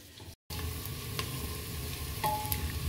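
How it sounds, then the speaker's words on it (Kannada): Onions frying in oil for egg biryani, a dense, continuous close sizzle with a faint stir, broken by one brief dropout near the start. "ಈರುಳ್ಳಿ ಫ್ರೈ ಆಗ್ತಾ ಇದೆ"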